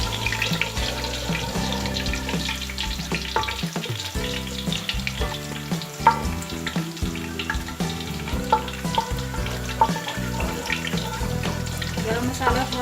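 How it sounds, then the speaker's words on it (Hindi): Garam masala frying in hot oil in a cooking pot, a steady loud sizzle with clinks and stirring scrapes throughout, no talk heard. "दूसरी देगची में हम ऑयल डालकर मसाला फ्राई कर लेते हैं।"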